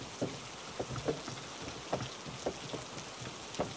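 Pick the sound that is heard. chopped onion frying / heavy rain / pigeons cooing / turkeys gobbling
heavy rain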